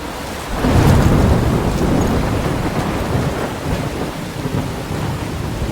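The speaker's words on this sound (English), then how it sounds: "I'm trapped in a storm?" A thunderstorm in the video game Life Is Strange rolls on as a loud, continuous roar of heavy rain and deep rumbling thunder that swells early and holds steady.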